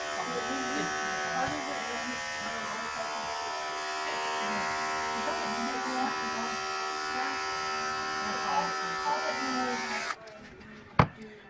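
Electric clippers shave a cat's fur over the medial saphenous vein before a catheter is placed: a close, steady, even buzz runs for about ten seconds, then cuts off, followed by a sharp click.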